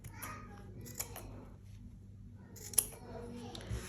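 Scissors snip through fabric while cutting out a pencil skirt pattern, a few sharp crisp cuts spaced apart over a quiet background, with a brief soft noise near the end.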